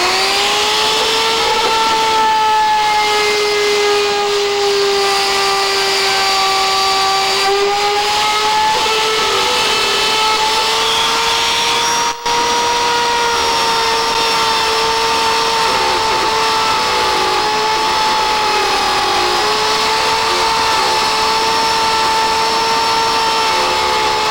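A power tool cuts around the edge of firm PVC foam for a homebuilt aircraft canard and elevator, giving a loud, continuous whining drone with steady tonal pitch that drifts slightly for about twenty-four seconds, no talking.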